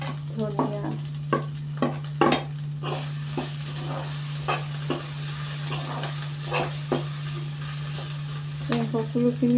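Cumin and coriander stir-fry in a pan for an Assamese chicken curry, giving a steady low hum and sizzle broken by a series of sharp scraping and clinking strokes of the spoon against the pan.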